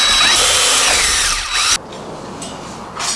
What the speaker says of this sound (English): drill a pilot hole, and then with our step bit, we drill another hole.